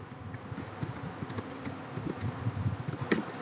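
Keys clatter on a computer keyboard while text is entered into a spreadsheet, with quick irregular taps close by and no voices.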